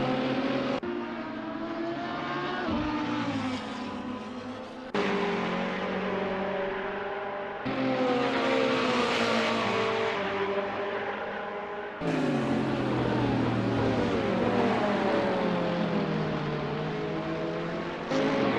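Red, white and blue Ferrari race cars in a GT racing video game at Barcelona, engines roaring loud and continuous as they rise and fall through the gears, with several distinct cars passing in turn.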